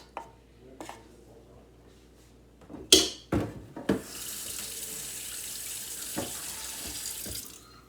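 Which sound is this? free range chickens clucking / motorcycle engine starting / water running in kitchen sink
water running in kitchen sink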